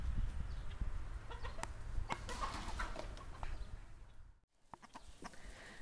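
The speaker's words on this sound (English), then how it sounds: "This is all the chickens in the poultry barn flock." A flock of chickens clucks and squawks inside a poultry barn on a homestead, with scattered sharp calls over a steady low background murmur, moderately quiet.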